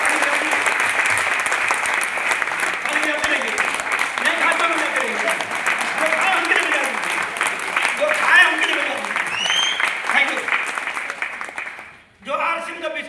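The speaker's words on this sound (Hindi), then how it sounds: "जो लोग खाए हैं एक बार ताली बजा दीजिए" A seminar audience claps steadily and loudly for around twelve seconds, a dense crowd wash with voices mixed in, before it cuts off abruptly near the end.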